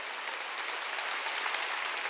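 A church congregation applauds during a Korean Sunday worship service, a steady wash of clapping that holds evenly throughout, fairly faint and without any voices over it.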